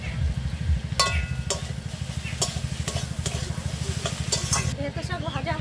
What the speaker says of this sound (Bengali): ভেতে শাক ভাজা হয়ে গেছে, এবার আমি এই খুন্তিতে সব তুলে নেবো এগুলো।